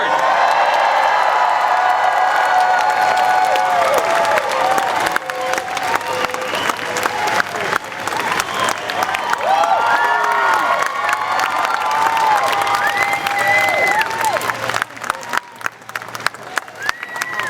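A large convention crowd at ComicPalooza cheers and applauds for Patrick Stewart, with dense continuous clapping, whoops and shouts that swell and hold loud throughout, some excited voices rising above the roar.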